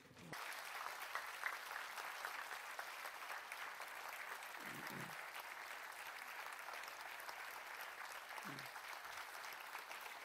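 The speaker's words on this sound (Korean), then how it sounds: "우리 박수해 드릴래요?" Steady applause from a church audience fills the space evenly, a broad wash of clapping held at moderate distance without pause.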